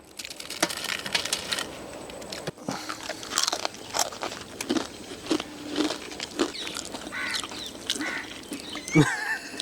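Crunchy rice-flour murukku snacks are broken and bitten in a village kitchen, giving a string of sharp, close crackling snaps and crunches at irregular intervals.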